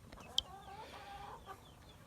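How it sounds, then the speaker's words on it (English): Upset hens clucking in a flock, agitated broken clucks and squawks close by, one sharp cry standing out against a low rustling background. "those are some upset hens right there."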